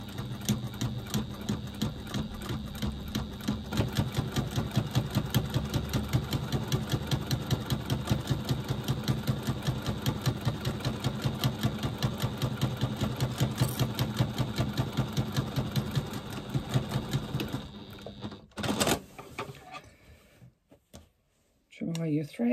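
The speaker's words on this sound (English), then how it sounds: "we're now going to stitch down that shorter side that we've now just folded together" A sewing machine runs steadily, stitching down the short folded side of a foam-backed piece at a 3/8 inch seam allowance, with a rapid even needle rhythm for about eighteen seconds before slowing and stopping, close and fairly loud.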